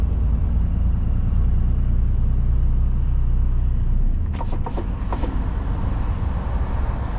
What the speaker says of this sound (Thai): มาอัดรถติดหน่อย